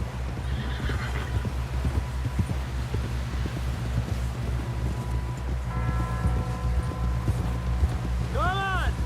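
Horse in the video game Red Dead Redemption 2, neighing and snorting with clip-clop hooves over a continuous low rumble and music, ending in a rising whinny near the end.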